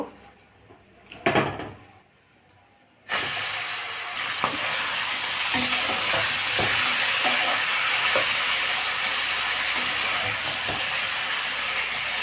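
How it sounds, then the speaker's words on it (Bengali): Chicken pieces frying in hot oil for a Bengali chicken kosha, a loud steady sizzle that starts abruptly after a few quiet seconds with a brief clatter, then continues close and unbroken with faint stirring knocks. "তেল দিয়ে দেবো বিসমিল্লা মাংসটাকে আগে ভেজে নিব"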